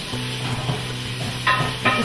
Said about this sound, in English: put our onions in. And let's put our garlic in as well